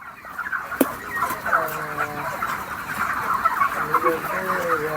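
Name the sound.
chickens clucking in poultry farm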